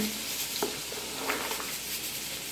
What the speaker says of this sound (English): you'll see it's like starting to sizzle